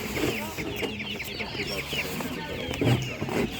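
Hens cluck softly in short, scattered bursts at an animal market, against a quiet farmyard background, close and fairly faint.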